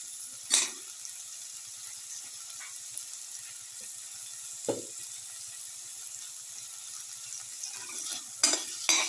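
Potato pieces sauté in a pan over a faint, steady sizzle, with a few distinct scraping strokes of a spatula spaced apart and a quick double scrape at the close.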